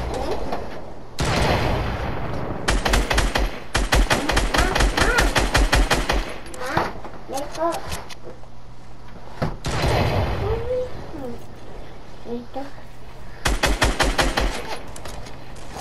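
Rapid bursts of automatic gunfire from a player shooting in a multiplayer shooter game, loud and close, coming in several sharp volleys separated by short pauses, with other game sounds between the bursts.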